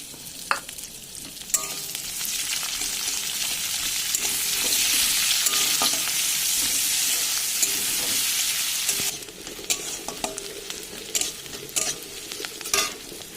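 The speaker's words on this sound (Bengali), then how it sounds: "আমি কড়াইয়ে দিয়ে দিয়েছি জিরে, গোটা গরম মশলা আর একটা তেজপাতা দিয়ে এবার দিয়ে দিচ্ছি আমি কুচনো পেঁয়াজ।" Chopped onion hits hot oil in a wok already holding cumin seeds, whole garam masala and a bay leaf, giving a loud, steady sizzle with stirring scrapes that eases after about nine seconds into quieter sputtering and clinks.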